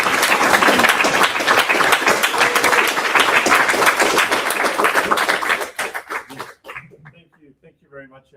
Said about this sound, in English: let's have an applause though